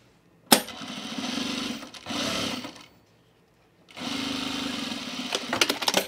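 A domestic sewing machine edge stitching a seam on men's chino pants runs in three bursts of steady motor whir and needle chatter, separated by pauses, with small clicks and handling noises near the end.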